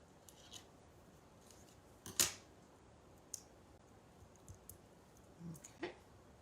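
Scissors trimming paper for a stamped 3D flower card, giving one crisp snip near the start and a couple of softer cuts and clicks toward the end, close and quiet.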